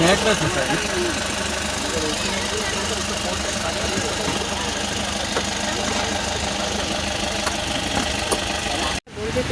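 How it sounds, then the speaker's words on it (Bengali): A broken-down bus engine runs with a rough, knocking idle while a mechanic works on it by the roadside, a steady loud rumble that drops out briefly near the end, with people talking over it. "আস্তে আস্তে আমাকে গাড়ি খারাপ হয়ে গেছে রাস্তায়, দেখো মেকানিক দিয়ে ঠিক করতেছি"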